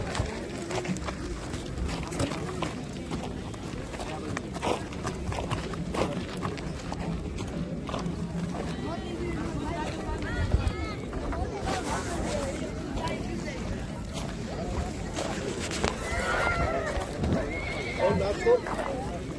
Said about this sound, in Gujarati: નાગણનો વછેરો નાગ જોઈ લ્યો, એ પણ સામે આવકારો આપે છે.